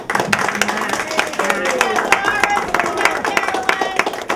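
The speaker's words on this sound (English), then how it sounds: "we're going to wait a round of applause for our volunteers" Applause for volunteers at a St. Patrick's Day party in a senior center, a lively round of close, sharp hand claps mixed with crowd chatter and voices throughout.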